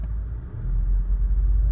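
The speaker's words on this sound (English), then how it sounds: "If I turn the key now, when we put on the brake, car starts" A Volkswagen Golf R fitted with a Ghost immobiliser starts up and settles into a steady low idle, a continuous close engine rumble with no voices.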